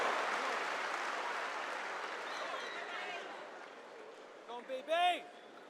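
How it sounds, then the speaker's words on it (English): A crowd applauds strongman Rob Kearney at a log lift competition, a broad roar of clapping that starts strong and gradually fades, then a voice speaks briefly at the end. "Round of applause for Rob Kearney."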